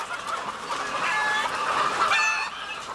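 A dense flock of laying hens clucks continuously on a large commercial egg farm, a steady loud wash of overlapping calls with no pauses.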